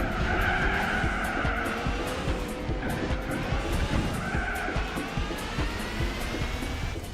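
Race car tires squealing and skidding on the Nürburgring in Gran Turismo 4 on PlayStation 2, with a continuous engine drone and repeated screeching slides under no talk.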